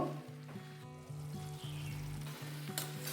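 Kohlrabi frying with spices in a hot pan gives a steady sizzle, broken by repeated scraping and stirring strokes and a low hum throughout, with no talking.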